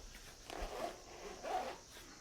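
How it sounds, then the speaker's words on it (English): A zipper closes on a guitar travel gig bag in two short, close strokes, each a quiet rasping pull. "So that zips up"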